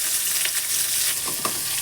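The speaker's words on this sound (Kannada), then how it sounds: "ಅದಾದಮೇಲೆ ಕರಿಬೇವು ಹಾಕ್ತಿದ್ದೀವಿ. ಅದು ಸ್ವಲ್ಪ ಫ್ರೈ ಆಗಲಿ" Curry leaves and onion frying in a pan, giving a dense, even sizzle with a few soft stirring scrapes, close and steady with no voices.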